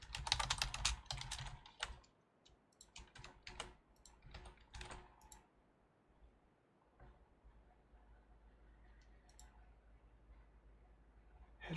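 Typing on a computer keyboard while writing C++ code: a dense burst of rapid key clicks for about two seconds, then scattered slower keystrokes, close and clear, with no talking.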